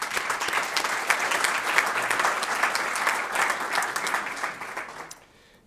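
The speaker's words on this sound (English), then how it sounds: "their aides deserve a round of applause" An audience at a state senate breakfast forum claps steadily in dense, even applause for about five seconds, then it dies away at the end.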